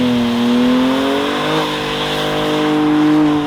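A Raptor build car runs with a custom option 1 exhaust and mid pipe, its engine droning loud and close, with the pitch climbing and easing in a rev, no voices.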